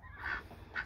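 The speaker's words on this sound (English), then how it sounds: "This is a goose who has hatched baby ducklings." A goose that has hatched ducklings lets out two short, soft honking calls, a brief pause between them, fairly faint and close with no talking.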